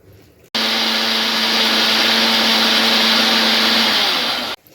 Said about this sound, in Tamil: இப்போ இதை நம்ம மிக்சியில் அரைச்சி எடுத்துகிட்டு வந்துடுவோம்.